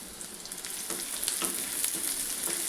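Chopped onions fry in a pan for a bitter gourd (kakarakaya) curry, giving a steady close sizzle with intermittent scraping taps of stirring, with no talk.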